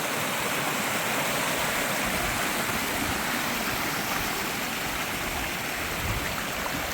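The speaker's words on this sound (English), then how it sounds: "It's a river." Cold mountain river on the Snowgrass Trail near the PCT, a loud, steady rushing and churning of water heard up close, continuous broadband roar with no voices.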